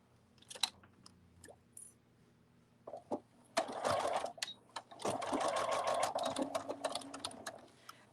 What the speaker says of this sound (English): So we'll just sew this piece on.